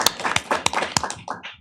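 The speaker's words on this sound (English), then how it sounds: "let's give them a big round of applause" Scattered hand claps break out at a school board meeting, with sharp irregular slaps mixed with murmuring voices from the crowd.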